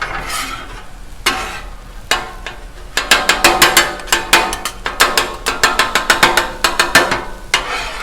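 A metal spatula chops eggs rapidly against a hot Blackstone griddle in quick rhythmic clacks, with light sizzling underneath and a few scattered scrapes before the steady chopping.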